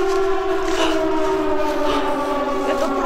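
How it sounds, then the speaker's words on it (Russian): A Siren Head siren sounds after a button press. It is a loud, steady, multi-toned wail that holds continuously for the whole stretch with no talking over it. "Когда ее нажимаем, должна заработать сирена."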